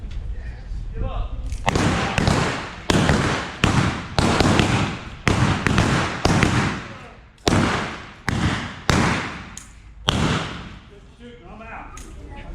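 Gunshots ring out in a Dodge City Old West gunfight reenactment, a rapid string of about a dozen loud, sharp cracks spread over several seconds, with people talking between the shots.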